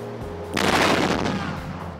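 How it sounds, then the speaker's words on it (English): In GTA III, a cheat makes all nearby cars explode at once: a sudden loud blast with a long rumbling roar that fades gradually, heard alone without speech. "All nearby cars explode."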